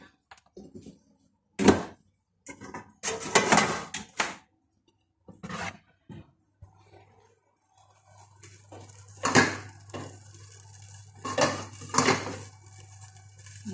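A pot on the stove for pancit bihon: a few sharp metallic clanks and scrapes, close by, with pauses between them and a low steady hum in the later part.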